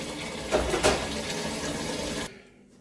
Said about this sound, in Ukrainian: Поки набирається водичка